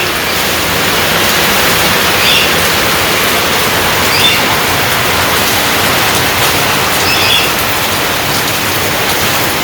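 Heavy rain pours steadily over a Bangladeshi village, a dense, even hiss of drops filling the whole stretch at constant loudness, with no voices.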